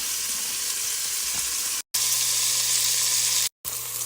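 Sausage meat for Zuppa Toscana frying in a pan, a loud, steady broadband sizzle that runs unbroken apart from two brief cut-outs of silence.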